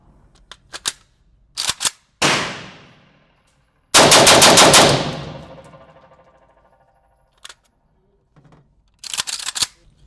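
Shots from a rifle loaded with Tula ammunition crack out in sharp, loud bursts, some single and some in quick succession, with ringing decay and mechanical clicks between them.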